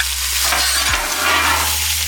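Potatoes frying on a Blackstone 17-inch griddle make a steady, close hiss and sizzle, with one brief scraping stir partway through and no talking.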